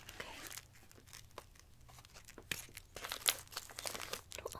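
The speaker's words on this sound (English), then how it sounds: "this is brand new, so I'm just gonna have to cut it open" Brand-new plastic packaging of a hair stylist cape being cut open and crinkled close up, soft rustling and tearing with a few sharper crackles, quiet and without speech.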